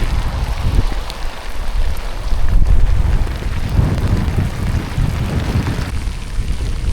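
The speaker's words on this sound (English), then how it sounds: "Raining pretty damn hard." Heavy rain pouring down while riding outdoors: a loud, continuous broadband hiss and patter mixed with wind buffeting against the microphone, steady throughout with no talking.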